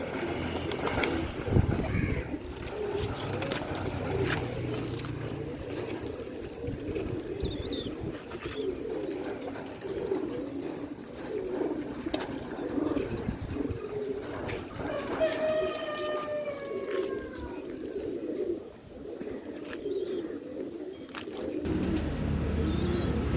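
Pigeons and their young chicks of good lineage coo steadily at close range, with soft chirps and occasional wing flutters over a constant low background hum, without talk.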